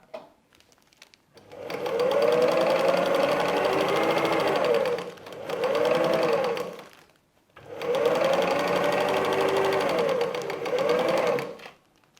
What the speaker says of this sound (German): nähen wieder über die perforierte Linie mit 5 mm Nahtzugabe